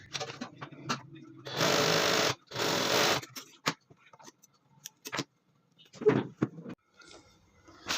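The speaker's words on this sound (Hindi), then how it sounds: "पतला सा फोल्ड करेंगे और इस पर सिलाई लगा देंगे।" A sewing machine stitches a narrow fold in trouser fabric, running in two steady bursts of a couple of seconds each, then falls into short clicks and handling noises around them.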